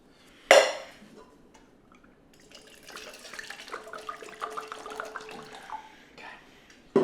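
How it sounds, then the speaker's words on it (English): Water pours into a cup, a soft trickling fill rising under faint background noise after a sharp clink at the start, with another knock at the end. "Pour this in the cup."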